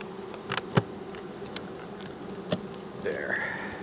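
Honey bees buzz around an open beehive near beetle oil traps, a constant close hum with scattered passing buzzes and a louder whine rising near the end.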